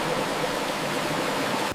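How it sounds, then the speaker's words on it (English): Continuous close hiss of a power washer blasting grease and sludge off a V8 engine from an abandoned safari Jeep, a dense even spray with no pauses or voices. "Power washing the V8"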